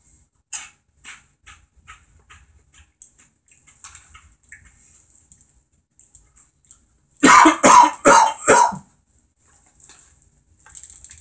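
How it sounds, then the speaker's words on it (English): A short burst of several harsh coughs from eating Flamin' Hot spicy chips, close and loud, after a stretch of quiet rustling and small clicks. "I love it when I pack so much heat, it makes me cough."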